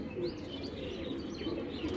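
A pigeon of the black-headed Giribaz high-flyer type coos in a steady low, throaty murmur, with faint chirps of other birds around it and no talk.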